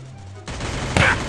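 Rapid gunfire from a P90 in the Free Fire video game breaks in abruptly after a quiet start. A sharper, louder burst comes near the end.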